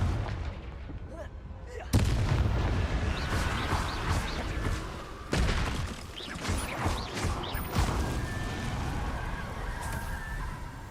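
Fiery Confringo spell blasts in Hogwarts Legacy, a dense run of loud booming bursts with sharp onsets near 2 s and 5.5 s, layered over constant game ambience and crackle.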